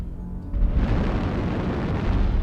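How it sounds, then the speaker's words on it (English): Artillery strike explosion in MechWarrior Online, a sudden deep boom that erupts after a brief lull and rolls on as a dense, loud rumbling blast with no voices. "Artillery strike."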